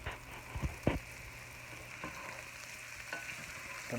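Hash fries and caramelizes in a pan in a cave camp kitchen, a soft, low sizzle with a few sharp utensil scrapes and taps early on, then quieter crackling throughout.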